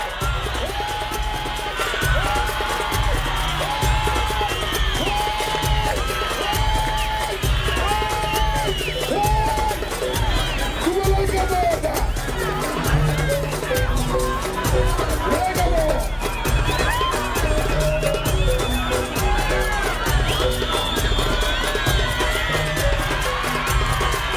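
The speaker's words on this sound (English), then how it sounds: "The crowd is not enjoying this at all as they signal that both fighters be substituted." A crowd at a free-fight match reacting with steady hubbub, scattered yells and whoops throughout, loud and continuous with a rhythmic low thumping underneath.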